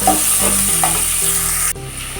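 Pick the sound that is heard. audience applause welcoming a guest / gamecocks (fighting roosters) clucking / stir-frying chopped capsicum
stir-frying chopped capsicum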